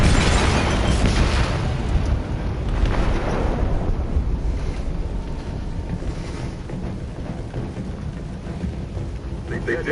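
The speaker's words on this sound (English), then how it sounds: "They detonated an explosive in the hold" An explosive detonates in the hold of a ship in Detroit: Become Human. A loud, broad roar of blast and rushing wind stays dense the whole time and fades slightly toward the end, with no speech over it.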